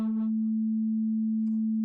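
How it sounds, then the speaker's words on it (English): A steady sine-wave test tone holds one pure unwavering pitch the whole time, loud and constant, with a faint brief chirp at the start and a small blip near the end. "there you see we've got our sine wave"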